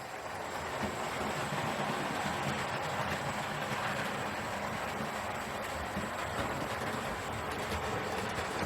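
Continuous rushing, rattling mechanical noise of a model steam locomotive running on track, steady and fairly close throughout.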